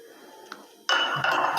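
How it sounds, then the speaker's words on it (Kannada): A metal spoon clinks sharply against a bowl or jar while honey is added to a homemade skin care mix, a couple of bright close knocks after a quiet start. "ಇವಾಗ 1 ಸ್ಪೂನ್ ಜೇನುತುಪ್ಪ ಹಾಕ್ಕೊತಾ ಇದ್ದೀನಿ"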